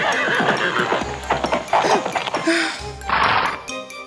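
A small pony whinnies and neighs loudly while hooves clip-clop as it runs out of a room through a palace, with a voice speaking over it in a dramatized storybook scene.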